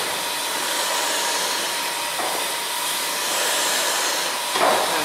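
Steady, smooth mechanical hiss and hum of a running Worth Mackenzie triple expansion steam engine, continuous and even throughout, with a slight rise in noise near the end.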